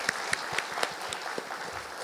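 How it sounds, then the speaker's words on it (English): Audience claps for a conference panel on digital industries, a short burst of steady mixed applause with a few distinct louder hand claps near the front. "let's have a round of applause for them"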